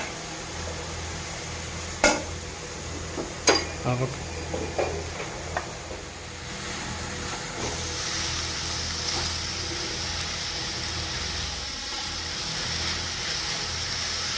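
Rice tipped into a hot pan of small-gooseberry pulihora brings a few sharp clinks and scraping thumps from stirring, then settles into a soft, steady sizzle and hiss.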